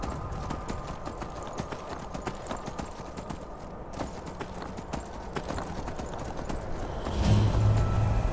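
Horse hooves clip-clopping in a video game, a steady rhythmic run of close hoofbeats that carries on throughout, with a brief louder rumble near the end.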